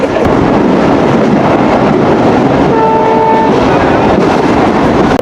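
The Betna Express train runs fast between Khulna and Benapole at about seventy kilometres per hour, with a loud, steady rumble and rattle of the rail cars throughout and a brief horn-like tone in the middle.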